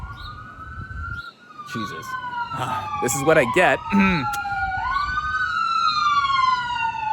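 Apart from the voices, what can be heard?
police sirens passing outside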